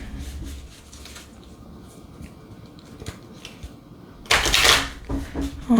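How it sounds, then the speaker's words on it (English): Soft papery rustling and light slaps of angel oracle cards being shuffled, building to a louder burst of riffling near the end, no talking. "We're going to give a shuffle to the angel cards."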